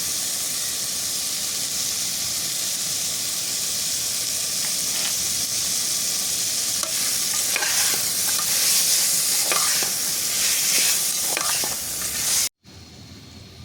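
Ingredients for pea rice sauté in a pan, a steady close hiss with scattered spatula scrapes and clicks as they are stirred, cut off sharply near the end; no one talks.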